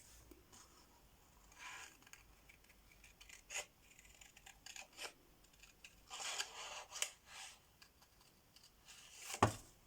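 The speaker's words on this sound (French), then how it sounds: "on va découper autour du poisson" Scissors cut paper around a small fish shape for a card, soft snips and rustles that come and go, faint and close, with no talk.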